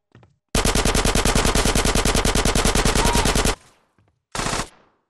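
Loud, close automatic gunfire in a video game, a rapid unbroken burst of about three seconds followed by a short second burst after a pause.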